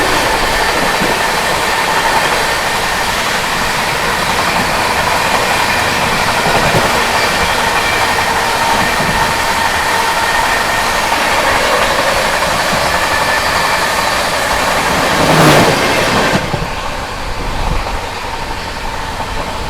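The Punjab Mail runs past and overtakes the Dadar–Hazrat Nizamuddin AC Special: a loud, steady rumble of rolling wheels and coaches with rhythmic clatter, then a brief, sharper rushing swell near the end as it passes close.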